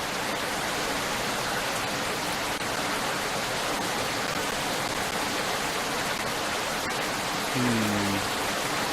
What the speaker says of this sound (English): And to top it off, this rain. Out of nowhere.